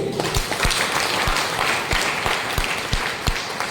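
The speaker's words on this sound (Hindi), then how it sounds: "जोरदार ताली बजाइए।" A seminar audience gives a burst of loud, close applause, with dense clapping and distinct sharp individual claps standing out from the crowd.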